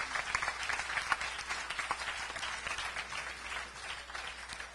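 An audience at a mushaira poetry event applauds with dense, sustained clapping that swells and then eases slightly over several seconds, with no talking.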